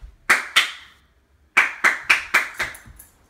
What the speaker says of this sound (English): And then you clap twice